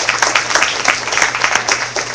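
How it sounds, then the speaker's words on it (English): A live audience at a community salsa festival dance contest kickoff claps in a brief burst, a dense rhythmic patter with a low steady hum underneath. "Round of applause for Bonnie Weigel."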